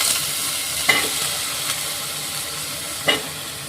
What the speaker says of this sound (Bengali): কলা আলু একসাথে রেখেছিলাম, সেটা দিয়ে দিচ্ছি।